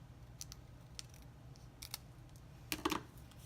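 Scissors snipping through craft material in a quiet room: several faint, crisp snips spread out, with a denser cluster of louder cuts near the end and no talking.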